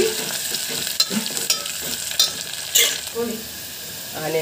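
Onions roasting in a frying pan, sizzling steadily while a spatula stirs and scrapes in a few sharp strokes, close up, with no talking.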